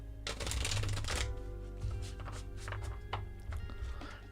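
A tarot deck shuffled by hand during a live reading, loud riffling bursts up front followed by softer repeated card slaps and taps, close and dry.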